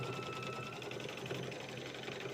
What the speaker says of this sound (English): So I'm going to hit my presser foot down and quilt